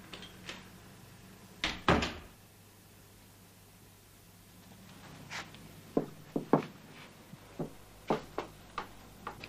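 A door lock being slipped open with a credit card: scattered sharp clicks and rattles, one louder burst early on, then a cluster of quick taps and snaps, close by against a low steady room hum.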